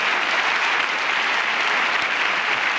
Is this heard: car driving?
no